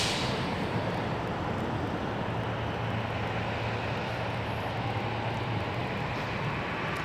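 Airplane climbing out of San Jose International Airport, a steady broad engine roar holding at even loudness throughout with a low droning hum underneath, no voices.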